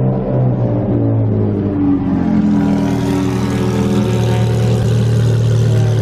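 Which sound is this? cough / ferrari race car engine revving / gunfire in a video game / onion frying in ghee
ferrari race car engine revving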